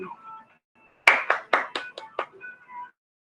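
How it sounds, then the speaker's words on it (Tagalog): Classroom applause for a student: about six sharp, distinct claps ring out close by in quick succession, spaced slightly unevenly, with a faint voice before and after. "Bigyan natin ng palakpak si JD"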